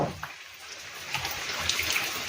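Water falling and splashing, a continuous rushing pour with scattered drips, heard close and fairly loud.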